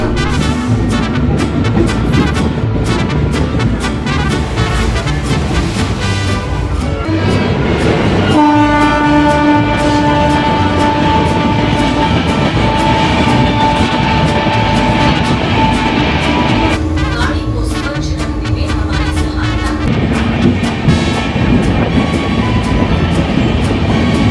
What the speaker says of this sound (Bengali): ফাঁকা ট্রেন আর দারুণ একটা জার্নি